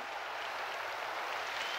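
Audience applause after a match in an animated sports series, a steady dense wash of clapping heard alone, fairly faint and even throughout.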